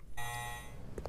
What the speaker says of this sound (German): Dieser Alarm nervt.